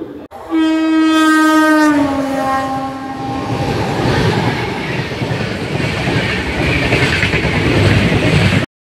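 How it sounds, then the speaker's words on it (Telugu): A loud train horn blasts for about three seconds, followed by the heavy rumble and clatter of the Guntur–Tirupati Express moving at Guntur Junction railway station. "train number 1726 Guntur Tirupati express 2 number platform పై ఉన్నది"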